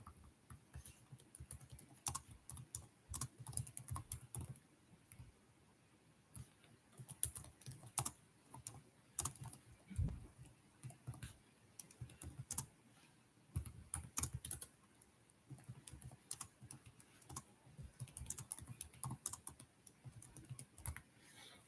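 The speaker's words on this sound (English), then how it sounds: "Let me type it in." Someone types on a computer keyboard in quick irregular bursts of clicking keys with brief pauses, close and soft in a quiet room, continuing steadily for about twenty seconds.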